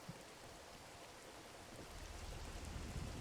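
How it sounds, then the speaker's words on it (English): Rain falls in the strategy wargame Regiments, a very faint, steady hiss of drops on surfaces with a few soft low rumbles growing slightly toward the end. "It's raining today."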